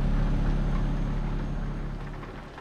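Steady rain drumming in Euro Truck Simulator 2, a dense continuous wash with a low engine-like rumble underneath, loud and unbroken, no thunder clap standing out.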